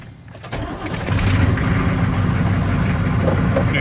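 A 6.5 turbo diesel truck engine with a fault cranks briefly, catches and starts, then settles into a loud, steady, rough idle rumble nearby.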